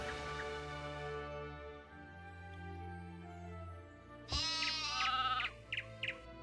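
A sheep in the video game Anno 1602 lets out a loud wavering bleat late in the clip, followed by two shorter bleats, over a soft sustained game music bed.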